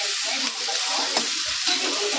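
Sliced white and red onions sizzle and fry in a pan, with occasional stirring scrapes against the hot surface, close and steady.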